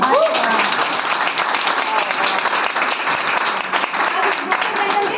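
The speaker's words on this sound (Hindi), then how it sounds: "जोरदार तालियां" A burst of loud, continuous applause from a crowd, with dense clapping throughout.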